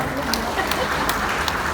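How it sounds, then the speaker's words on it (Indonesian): An audience at an indoor event applauds in a short, fairly faint, steady patter of clapping, with a voice carrying over it. "Tepuk tangan untuk kita semua."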